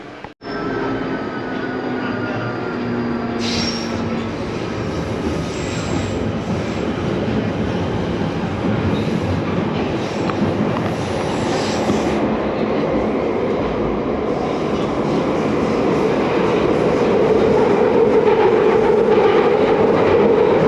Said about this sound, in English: This is a Northern Line train terminating at Edgware.